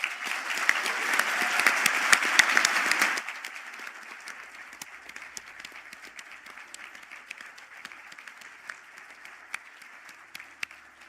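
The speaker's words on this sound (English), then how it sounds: "stand for a round of" Graduates at a conferring ceremony in Galway receive a burst of dense indoor applause that cuts down sharply after about three seconds into scattered lingering claps.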